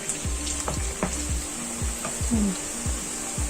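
Steady sizzling of ginger and garlic browning in hot oil for aloo kaleji, with occasional pops and a spoon scraping and clinking against the pan.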